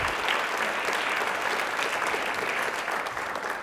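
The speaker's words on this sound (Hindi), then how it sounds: "एक बार तालियां हो जाए" A crowd claps steadily and loudly for several seconds, a dense wash of applause without pause.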